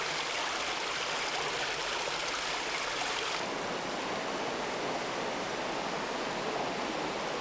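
The upper Nakdong River flows as a mountain stream through a valley south of Taebaeksan in Bonghwa in April, giving a continuous, dense rushing roar with no voices. The sound shifts slightly partway through.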